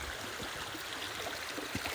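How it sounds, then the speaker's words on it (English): Water running through an old, still-intact mill canal, a steady faint rushing wash with small splashes, alone. "It is the most intact water canal that leads to an old mill."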